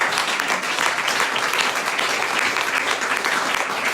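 A church congregation breaks into dense, steady applause acclaiming the Lord, a full sustained wash of clapping from many hands in a large room.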